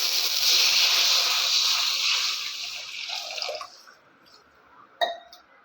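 Water is poured from a glass into a cooking pot, a loud rushing splash for about three seconds that fades into faint drips, ending with a single sharp clink.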